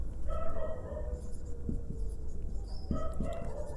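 A marker or chalk scratches across a board during a physics lesson on concave mirror images, with short strokes and taps close by over a noisy room background.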